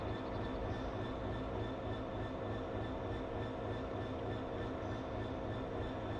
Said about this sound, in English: sounds like there's a train coming past, I assume. Oh, there you go, there's a Javelin.